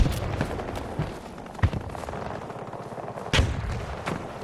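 Two sharp gunshot bursts from the AM-40 rifle in the shooter game Battlefield 2042, roughly two seconds apart, rising above a busy battlefield din.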